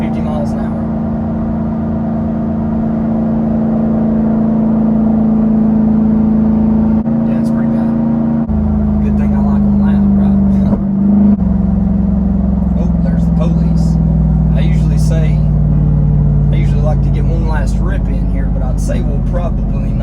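A straight-piped Jeep Wrangler Rubicon 392 cruising at 50 mph, with a loud, steady low exhaust drone that shifts pitch slightly as the throttle eases, heard from inside the cabin while someone talks over it.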